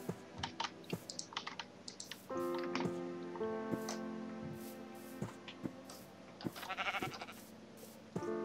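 Minecraft sheep bleating in a drawn-out call near the middle, mixed with brisk computer keyboard clicks and clatter throughout, faint and close.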